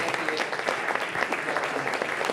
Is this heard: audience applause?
yes